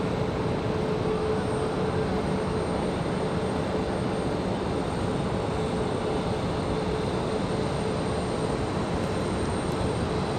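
A Delta airliner lands on runway 23 right at Raleigh-Durham International Airport, heard as a steady, continuous jet roar that holds at an even loudness throughout with no speech.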